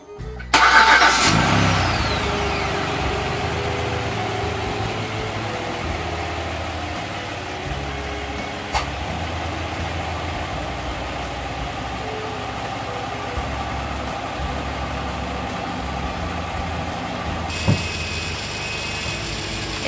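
A 2011 Hyundai Santa Fe GL Sport AWD with a freshly installed 3.5L engine cranks and starts, then settles into a steady, fairly loud idle close by, with a brief knock partway through and a slight change near the end.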